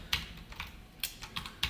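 Typing on a computer keyboard while coding C linked-list examples: a few short irregular bursts of key clicks, close and clear, with no talking.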